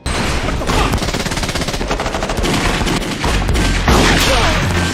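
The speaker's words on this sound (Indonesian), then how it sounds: "Baku tembak pun terjadi" Rapid bursts of gunfire in a gangster movie shootout, dense loud volleys running continuously with a heavier burst near the end, mixed with film soundtrack.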